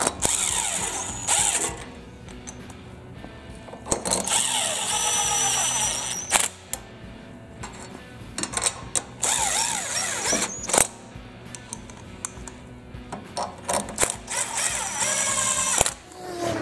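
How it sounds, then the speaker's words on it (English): Ratchet tightening head bolts on a Briggs & Stratton V-Twin Intek engine, repeated rapid clicking runs broken by pauses, close and fairly loud, with faint mechanical clatter around it and no talk. "And then we're going to torque them down."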